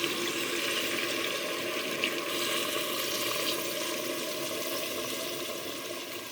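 Hot water pours steadily into a pot of Jamaican-style curry chicken feet, a continuous broadband rush of liquid that holds at an even level for several seconds and eases slightly toward the end, with no talking.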